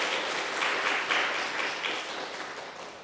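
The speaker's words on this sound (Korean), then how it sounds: "우리 성가대를 위해서 한번 축복하는 박수를 했으면 좋겠습니다" A church congregation applauding the choir, a steady wash of clapping from many hands that swells slightly and then tapers off.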